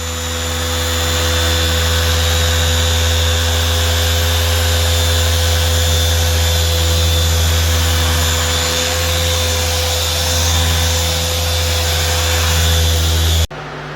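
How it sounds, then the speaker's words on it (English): A 3-inch Chicago Electric polisher runs steadily during paint correction, a continuous close-up motor whine with a constant hum that holds unchanged for about thirteen seconds before cutting off abruptly. "If there's one polisher I recommend always is having a 3-inch polisher."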